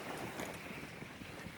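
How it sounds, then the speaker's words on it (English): Wind buffeting a small boat rocking in roughly 20-knot gusts, a steady faint rush of air and water noise with no voices. "I'm rocking and rolling here a little bit, but the wind is 20 knots now"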